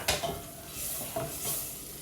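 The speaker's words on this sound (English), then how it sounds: "I'm going to take my 2 tablespoons of onion and saute them" Onion sizzling in melted butter in a pan, a soft steady fry with faint stirring scrapes and small clicks, close and fairly quiet, no talking.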